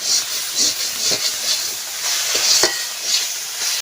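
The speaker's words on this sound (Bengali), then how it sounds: "এখন ভালো করে ভেজে নিচ্ছি।" Taro leaf paste fries in a pan with a continuous bright sizzle and hiss, broken by several scraping stirs and a sharper utensil scrape, close and loud throughout.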